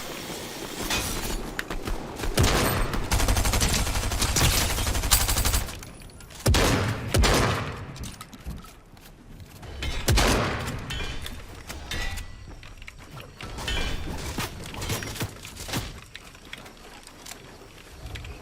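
Video game firefight heard as bursts of sharp gunfire and clattering impacts in loud clusters, separated by quieter gaps, with no talking.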